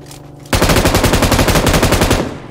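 An automatic weapon fires in PUBG Mobile: after a brief quiet lead-in, a loud, rapid, evenly spaced burst of shots runs unbroken for nearly two seconds before trailing off.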